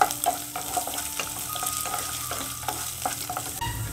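Green chilies, cashews and raisins frying in a pan for a ghee-free rice dish, giving a steady sizzle with repeated scraping stirs.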